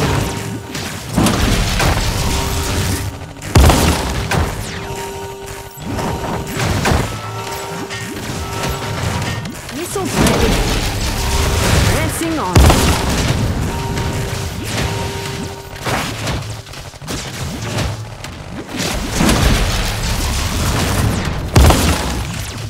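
Gunfire and explosions in the video game Iron Marines, a long loud stretch of repeated blasts, crashes and mechanical clatter mixed with game music.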